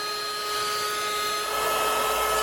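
A small heat gun whirs steadily with a high airy whine and blowing hiss like a hair dryer, shrinking tubing during a Jeep winch and LED light install, growing a little louder partway through.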